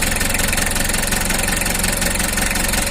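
Rough, knocking engine idle from a Mitsubishi L300 or Isuzu Panther, a loud close-up steady rattling chug with constant vibration and no voices.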